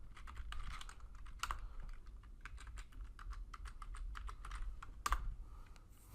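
Typing on a computer keyboard, a quick close run of light clicking keystrokes with a few heavier taps, steady over a quiet room with no talk.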